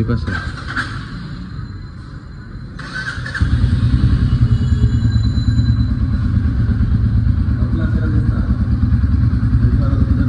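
A motorcycle engine idles and then settles into a loud, steady low throb close by, with people talking over it.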